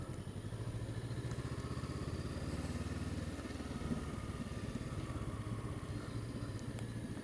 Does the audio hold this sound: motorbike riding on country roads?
yes